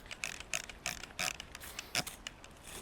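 A hand spray bottle loaded with methylated spirits is pumped over greenhouse plants to treat mealybugs, giving a series of about six short, quiet spritzing bursts at a steady rhythm, with no talking.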